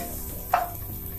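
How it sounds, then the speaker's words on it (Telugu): Chopped ginger and onion frying in a pan for an Indian crispy corn dish, a continuous close sizzle with one brief louder crackle partway through. "వేగుతున్నాయి కదా, ఇప్పుడు ఇందులో ఆనియన్ వేసేస్తాం."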